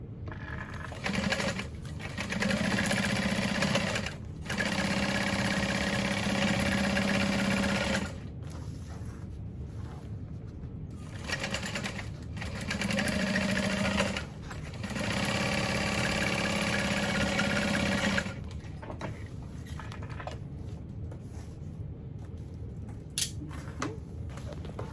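A sewing machine runs in long steady bursts while stitching tote bag seams with a 4.5 stitch length, pausing briefly between runs and stopping near the end; the whirring motor is close and loud, with no talk.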